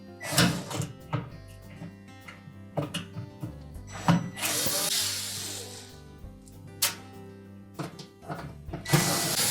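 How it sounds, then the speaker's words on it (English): A No. 2 Phillips or square-head screwdriver loosens screws holding the convection element shield in a Whirlpool range oven, giving repeated short metallic scrapes and clicks with hollow knocks from the oven cavity, close and fairly quiet. "You can use either a number 2 Phillips or a number 2 squarehead screwdriver for these."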